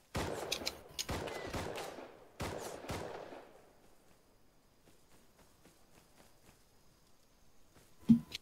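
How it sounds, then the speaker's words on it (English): A scientist NPC firing at the player in the game Rust: bursts of rapid, loud gunshots in quick clusters over the first few seconds, then a quiet stretch with a single sharp impact near the end. "I got shot by the scientist."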